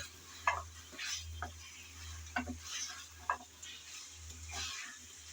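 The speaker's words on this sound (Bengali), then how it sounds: "টমেটো কুচি দিয়ে আবারও নেড়ে চেড়ে ভালোভাবে কষিয়ে নেব" Chopped tomatoes stirred and fried in a pan for hilsa fish curry, with a soft steady sizzle and intermittent light scraping taps of a spatula, fairly quiet and close.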